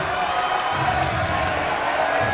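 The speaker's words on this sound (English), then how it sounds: "what a crowd on hand tonight inside Ranger Gym" Crowd noise fills Ranger Gym during a boys' high school basketball game between Steele and Smithson Valley, a constant roar of cheering from the stands under an announcer's voice.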